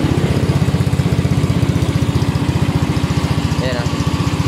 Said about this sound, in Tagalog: Yun ang maingay, yung makina ng compressor.